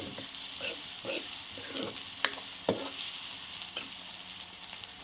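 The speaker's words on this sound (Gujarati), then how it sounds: "આદુ અને લસણની પેસ્ટ નાખીશું. સરસ ડુંગળીને સરસ એકદમ ચડવા દેવાની છે." Chopped onions frying with ginger-garlic paste in a pan on low heat, sizzling steadily up close, with stirring scrapes and a couple of sharp clinks of the spoon against the pan.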